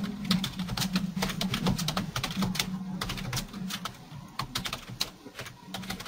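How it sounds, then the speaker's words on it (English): Rapid, uneven keystrokes on a computer keyboard clatter steadily close by over a low background hum, with no voices. "Someone's typing a question,"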